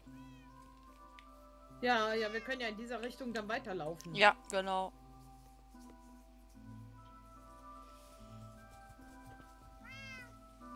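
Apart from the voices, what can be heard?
cat meowing in a video game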